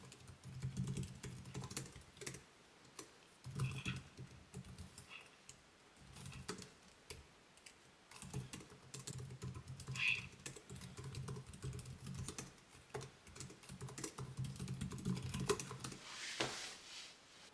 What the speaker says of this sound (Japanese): キーストロークはだいたい1ミリ程度になってます。 打った感じはね、パチパチパチパチっていう、ポコポコに近いかな。